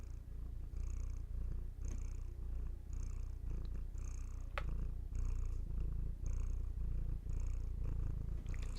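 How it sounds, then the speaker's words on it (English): A cat named Rose purrs steadily and close, with a soft rhythmic rise and fall of breaths in a quiet room and no talking. "She knows she's sharing her purrs."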